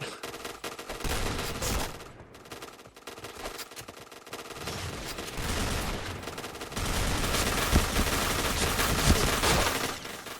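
Dense bursts of rapid gunfire from the online shooter Point Blank, loud and continuous through most of the stretch, with a short lull early before the shooting resumes in heavy volleys.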